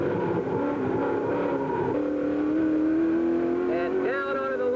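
A 1965 race car's engine at full throttle on a circuit lap, a loud close roar climbing steadily in pitch, then a quick gear change into fifth and the drone rising again.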